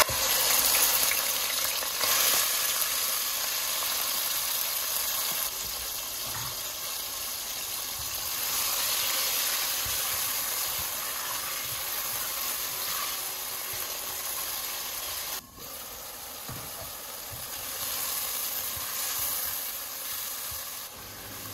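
Chicken pieces seasoned with salt and black pepper fry in hot oil, giving a steady hiss and sizzle that runs unbroken throughout, close and fairly quiet, with one brief dip partway.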